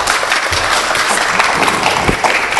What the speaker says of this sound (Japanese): じゃあ拍手でお願いいたします。